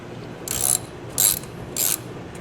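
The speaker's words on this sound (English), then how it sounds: "We're using the shitty Harbor Freight wrench" A ratchet wrench loosens bolts on a Harbor Freight Storm Cat 2-cycle generator, three short bursts of rapid clicking separated by pauses, close and clear over a low background hum.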